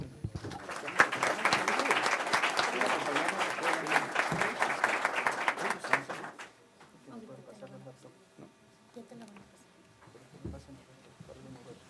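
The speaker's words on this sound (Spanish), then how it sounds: "Un aplauso, por favor." Audience applause fills a conference hall after a keynote speaker is introduced, dense and sustained for several seconds before cutting off abruptly into quiet room murmur.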